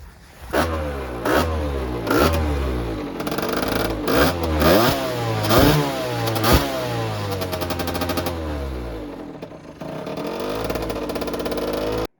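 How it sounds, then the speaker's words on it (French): A Beta Factory 70cc motorcycle engine with a Barikit kit revs hard in repeated bursts, rising and falling in pitch, then settles into a rough, buzzing idle. "je vais vous faire écouter le bruit de la moto"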